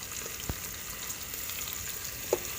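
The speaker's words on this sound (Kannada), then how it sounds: "ಅವೆಲ್ಲ ಚೂರು ಫ್ರೈ ಮಲ್ಪೊಡು." Cut carrots and beans frying in a pan: a steady, moderate sizzle with a couple of sharp clicks from stirring or spattering, with no speech.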